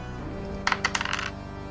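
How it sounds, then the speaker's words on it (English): Dice rolled for damage during a Halloween one-shot tabletop role-playing game: a brief rattling run of six or seven sharp clicks tumbling and settling, close and distinct, without any voices. "Dice your damage."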